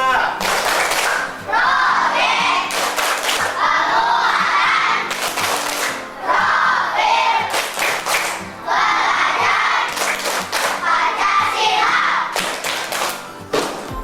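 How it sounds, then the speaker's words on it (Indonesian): Schoolchildren in an Indonesian elementary classroom clap a patterned cheer together in unison, bursts of loud rhythmic claps separated by short pauses, with shouted voices mixed in. "kita akan bertepuk semangat pada pagi hari ini. Yang pertama adalah tepuk P5"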